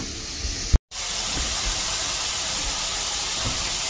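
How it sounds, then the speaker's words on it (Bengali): Radish semai frying in a pan, a steady broadband sizzle and hiss holding throughout, broken once by a brief sharp cutout near the start. "তো আমার এটা ভাজতে দিয়েছি, তো আর একটু ভাজা হোক"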